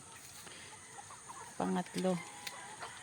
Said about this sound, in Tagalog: feeding time ng ating mga inahin